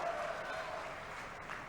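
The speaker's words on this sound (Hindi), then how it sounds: "जोरदार ताली बजाओ" A crowd claps steadily at a chief minister's public rally, a dense sustained wash of applause filling the whole stretch with a faint voice mixed underneath.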